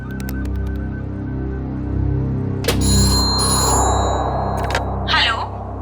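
An outgoing phone call in a Hindi CID crime-drama episode, its ring tone sounding as a bright electronic tone over a steady low background hum, with a second burst of ringing a moment later.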